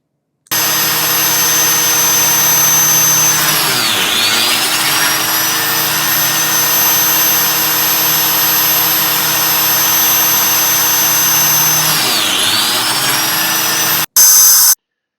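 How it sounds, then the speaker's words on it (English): A biscuit joiner cuts a slot in a wooden board, a loud steady high-pitched motor whine that dips twice as the blade bites into the wood, then stops abruptly near the end. "Sharon operates a biscuit joiner to create a slot for the biscuit to be inserted between the boards."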